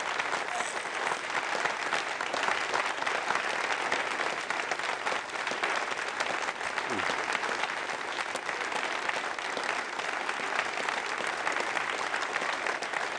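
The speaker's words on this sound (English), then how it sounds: "You can hear the applause." Sustained applause fills a Soyuz launch control room after satellite separation for the Galileo IOV mission, dense steady clapping from many people throughout, with a faint murmur of voices underneath.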